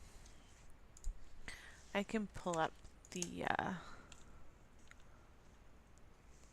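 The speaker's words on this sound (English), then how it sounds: "So if you hear mouse clicking, that's why" Computer mouse clicks while a crafter works on a scrapbook layout: a few quiet, sharp clicks scattered under a brief stretch of nearby talking.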